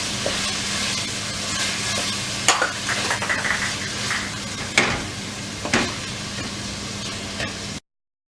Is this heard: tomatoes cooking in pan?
yes